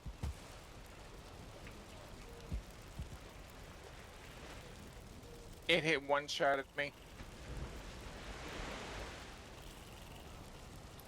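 Steady rain hisses across the landscape in the video game Valheim, a soft, even wash of falling water that continues throughout, with a brief burst of a man's speech in the middle.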